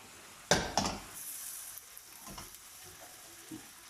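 Squid stir-frying in a wok with no salt or pepper added, giving a bright sizzling hiss with a couple of sharp stirring clatters near the start, then a softer steady sizzle with occasional scrapes.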